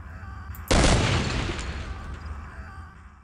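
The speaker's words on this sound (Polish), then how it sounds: "A tam też chyba pułapka wybuchła!" A trap goes off in the Vietnam 2 video game with a sudden loud blast, followed by a long rumbling, crackling decay that slowly fades over a few seconds.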